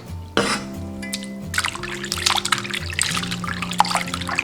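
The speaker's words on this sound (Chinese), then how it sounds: "再把虾仁清洗一遍" Water trickles and splashes over peeled shrimp being rinsed, with a steady running stream and small sloshing movements close by, no talk.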